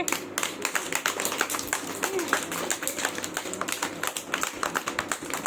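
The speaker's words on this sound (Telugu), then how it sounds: "అందరూ ఒకసారి క్లాప్స్ కొట్టుకోండి." Children clap together in a classroom, a busy run of irregular claps and taps lasting several seconds at moderate loudness, with faint background murmuring.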